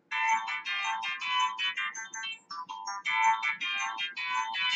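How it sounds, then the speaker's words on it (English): A Kamen Rider CSM toy phone rings with an incoming call, a bright, busy electronic ringtone melody looping steadily for several seconds with only brief dips, no voices over it. "the phone itself can take some phone calls."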